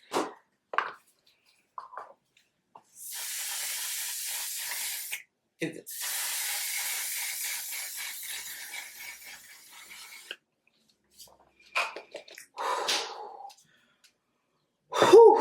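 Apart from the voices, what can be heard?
aerosol spray can spraying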